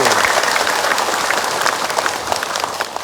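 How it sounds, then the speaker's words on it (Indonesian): A studio audience at an Islamic religious talk show claps together in a dense, continuous round of applause, close and fairly loud, without speech. "Boleh tepuk tangan lagi."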